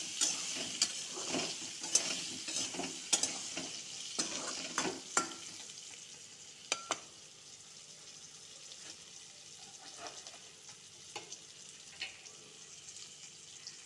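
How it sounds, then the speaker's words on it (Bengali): Pointed gourd with turmeric stirred in a frying pan, sizzling with repeated close spatula scrapes and clinks, busier at first then settling into a softer hiss. "হলুদ দিয়ে নাড়াচাড়া দিব করবো"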